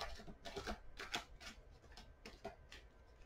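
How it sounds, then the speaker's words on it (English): Tarot cards are shuffled up close, a series of crisp riffling bursts and soft slaps in an uneven rhythm. "One more shuffle."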